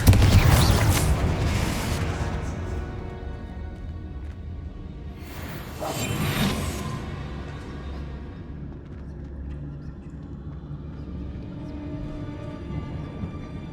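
The Confringo blasting spell in Hogwarts Legacy bursts with a loud whooshing boom at the start and a second fiery blast midway, each trailing off into a low rumbling decay.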